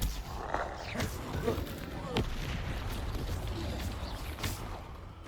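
Confringo, an explosive spell cast in the game Hogwarts Legacy, gives a few sharp blasts and whooshes over a busy, rumbling combat background, fairly loud and close.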